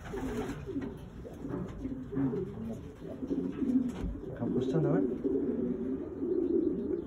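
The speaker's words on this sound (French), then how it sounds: "Donc ça, c'est des pigeons qu'on élevé." Several pigeons coo in soft, throaty rolling calls, overlapping one another in a close, enclosed loft where they are bred, with occasional rustling and a voice speaking briefly.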